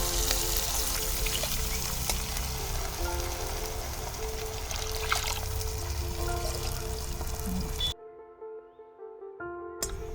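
Water poured into a hot pan holding onion and drumstick leaves for a wheat rava dish gives a continuous pouring and faint sizzling wash that stops abruptly near the end.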